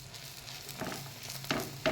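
Pav buns toasting in a spoonful of butter on a hot pan for Bombay-style pav bhaji, a soft steady sizzle with a few louder bursts of crackle near the end as the bread is pressed and moved.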